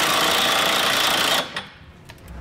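A power tool, likely an impact wrench, drives a 19 mm or 3/4 inch socket onto a trailer hitch nut during a Draw-Tite Max-Frame receiver install on a 2020 vehicle; a loud, steady whir runs about a second and a half, then cuts off abruptly.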